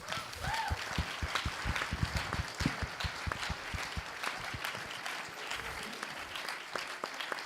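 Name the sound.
audience applause for a musician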